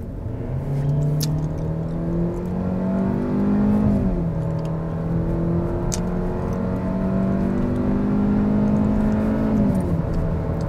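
A car engine in sport mode revs loudly and close, climbing steadily in pitch then dropping at gear changes, with a continuous droning whir throughout and no talking.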